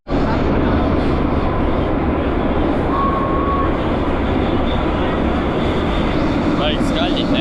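Loud, steady roar of a metro train in motion, with constant rumble and rail noise lasting throughout, a faint squeal rising near the end.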